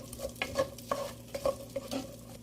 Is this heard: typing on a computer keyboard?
no